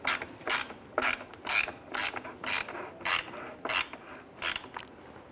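A ratcheting tool tightens screws on the bumper cover of a 2005-2010 Chrysler 300, a close, quiet burst of clicks repeated about ten times in a steady rhythm.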